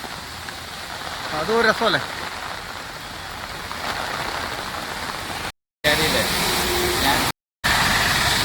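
Rain falls steadily along the Meenachil river near Ramapuram and Pala in Kerala, making a continuous close hiss. Someone speaks briefly over it, and the sound cuts out twice for short moments.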